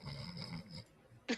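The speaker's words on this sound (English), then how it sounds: "He's either snoring or he's sleeping" A person snores softly nearby with a low, rumbling breath for most of the moment, then goes quiet before a brief, sharper snort at the end.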